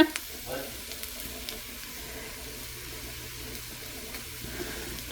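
Spices such as cumin, marjoram and chili powder stirred into a sizzling white chicken chili pot, a soft continuous frying hiss with light scraping, close and steady, with no talking.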